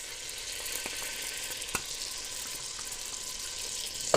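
Vanilla gets stirred into a warm, bubbling Rice Krispie treat mixture, a soft continuous sizzle with faint scraping ticks of the spoon and a small knock at the end.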